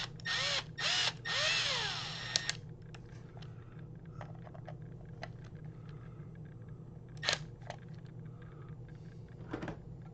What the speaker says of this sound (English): Why don't I get the power wrench out?